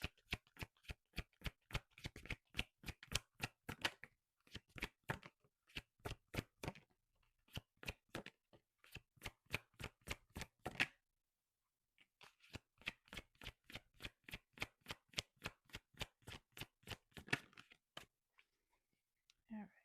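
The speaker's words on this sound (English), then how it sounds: "Grab you some oracle cards here" Oracle cards being shuffled by hand, a long run of quick crisp riffling snaps in steady bursts with short pauses between them, close and fairly quiet.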